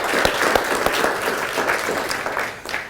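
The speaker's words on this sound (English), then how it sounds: "Please give them a round of applause as well." Outdoor crowd applause for park volunteers and recreation staff at a trail dedication in North Cheyenne Canyon Park, steady dense clapping throughout with a few sharper individual claps, fairly close and loud.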